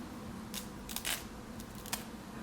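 Small snips cutting excess lace at the temples of a highlighted dark-root 13x6 lace frontal wig, a few quiet, scattered crisp clicks with no talking.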